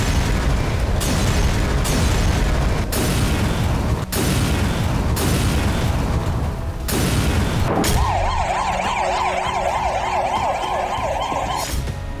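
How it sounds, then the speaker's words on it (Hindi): Heavy bombing strikes on the Gaza Strip: a run of loud, sharp booms and blasts follows in quick succession, then a wavering siren wails over the rumble near the end. "बीती रात गाजा पट्टी के साथ साथ वेस्ट बैंक में भी जबरदस्त बमबारी की गई।"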